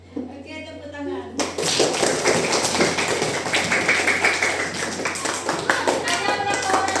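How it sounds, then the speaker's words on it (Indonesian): Primary school children clapping hands together in a classroom, a sudden loud burst of many overlapping claps that continues for several seconds, after a teacher's voice and with voices mixed in. "Oke, tepuk tangan."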